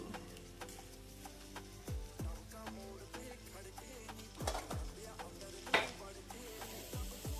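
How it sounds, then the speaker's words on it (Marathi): Okra fry with potatoes being stirred in a pan, with a series of scraping, clinking spatula strokes over a faint sizzle; the cooking noise stays close and moderately quiet, with no talking. "छान असं मिक्स करून घेऊया।"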